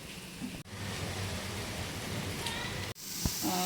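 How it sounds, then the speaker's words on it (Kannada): Heavy rain falling outside makes a steady, dense broadband hiss heard from indoors, briefly broken by a couple of short gaps and soft knocks. "ಮಳೆನೂ ತುಂಬ ಜೋರಾಗಿ ಬರ್ತಾ ಇದೆ ಫ್ರೆಂಡ್ಸ್ ಹೊರಗಡೆ."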